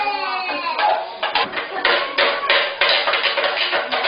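A toddler bangs a toy hammer repeatedly on a hard surface, with sharp irregular knocks, close and fairly loud, in quick uneven rhythm and no talk.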